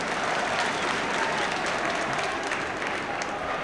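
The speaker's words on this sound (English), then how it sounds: "Gets good applause" A football stadium crowd at a Norwich City versus Inter Milan match, applauding in a loud sustained roar of clapping and crowd noise across the whole stretch, with faint commentary underneath.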